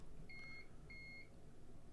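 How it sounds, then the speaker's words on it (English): Two short electronic alarm beeps from a Nortec 600 eddy current flaw detector, evenly spaced and clear over a faint steady background hum. "my alarm goes off"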